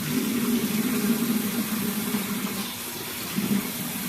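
Tap water runs steadily into a bathroom sink while black soap is wetted under it, a continuous close splashing rush with a brief dip and surge near the end.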